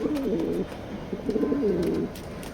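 A male grizzle pigeon cooing in soft, throaty bursts, two main phrases with a short gap between, fairly close against a faint background hiss.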